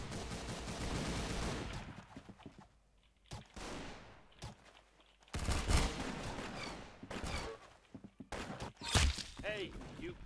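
Bursts of rapid gunfire from a first-person shooter match in Roblox Arsenal, loud and close, coming in several clustered volleys separated by brief lulls, with game sounds and occasional voices mixed in.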